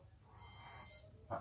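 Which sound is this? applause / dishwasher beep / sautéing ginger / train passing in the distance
dishwasher beep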